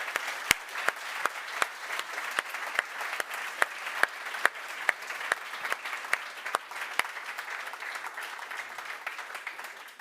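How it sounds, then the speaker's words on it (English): Sustained audience applause in a conference hall during the Neos Conference 2024, a steady wash of many hands clapping with a few louder nearby claps standing out, continuing for the whole stretch without speech. "Do we have another small, middle, large round of applause for Lisi in the room?"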